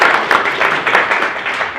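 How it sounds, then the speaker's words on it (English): Audience at a sales meeting applauding, a brief burst of dense, fairly loud clapping from a room of people that fades slightly toward the end. "Give Jason a round of applause."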